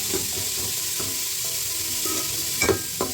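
Chopped onions frying in hot oil mixed with ghee, a constant hissing sizzle punctuated by a few scraping stirs and knocks of the spoon, close and alone without speech.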